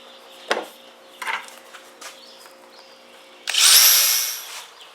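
A power drill with a 5/16 bit widens holes for a PVC chicken waterer: several short whirring bursts come first, then one longer, louder burst near the end, with no talking.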